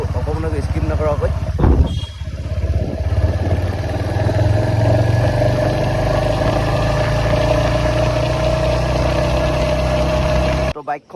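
A motorcycle engine idles at a fuel pump during a ride from Sadiya to Menchuka, a steady, close, mid-pitched rumble that runs almost unbroken and stops abruptly at the end, with voices heard faintly early on.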